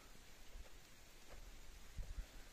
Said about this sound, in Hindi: हल्की हल्की बरसात हो रही है,